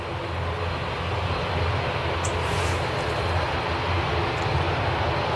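An ATR turboprop airliner departing from Manchester Airport, a loud steady engine roar and propeller drone heard from fairly close that holds throughout.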